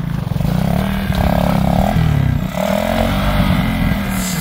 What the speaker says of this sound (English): It's running now.